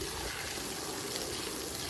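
Steady broadband rush of water from a garden hose filling a container at a small homestead chicken coop, continuous and fairly close with no voices.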